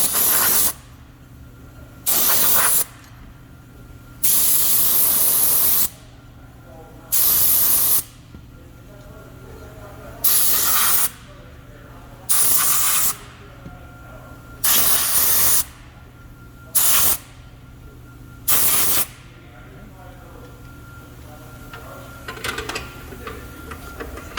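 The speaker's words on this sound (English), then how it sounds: "grab the compressed air. I'm going to blow off all the dust off." Compressed air blows dust off parts in repeated short, loud hissing bursts of about a second each, separated by pauses, with a faint ticking in the background between blasts.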